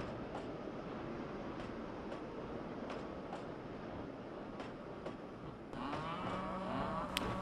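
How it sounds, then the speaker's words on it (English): Cattle in stock pens moo loudly near the end, drawn-out calls rising over the steady rumble of a nearby narrow gauge train, in a Trainz 2009 video game. "The cattle you hear in the background are in the stock pens"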